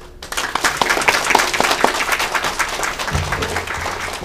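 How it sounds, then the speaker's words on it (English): An audience at an evening speech gives a welcome round of applause for Mr. Richardson, with sharp individual claps building to full, steady applause after a quiet start. "I will invite you to join me to give Mr. Richardson a welcome applause"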